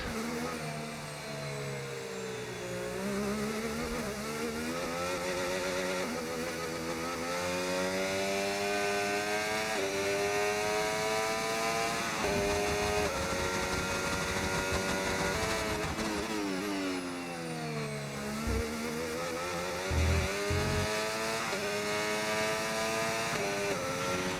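A Formula 1 car in the F1 25 racing game at São Paulo accelerating through the gears, its engine note rising and falling in repeated sweeps, loud and continuous throughout with no talk.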